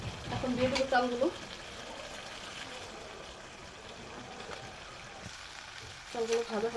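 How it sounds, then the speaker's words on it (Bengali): Rice fries for biryani, giving a moderate, even sizzle with soft stirring scrapes, and a voice talks briefly at the start and again at the end. "চালগুলো ভাজা হয়ে গিয়েছে"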